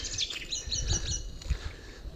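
High, quick bird chirps repeat in a busy little pattern over a low background hum, fairly close and moderately loud.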